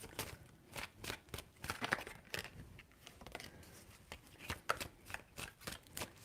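Tarot cards being shuffled by hand in a quiet room, giving a rapid series of crisp papery riffles and slaps close by, with no one talking.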